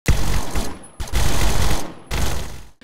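An in-game gun fires at 10,000 rounds per minute, the shots fusing into three loud, dense roaring bursts in close succession, each lasting about a second, with short gaps between them.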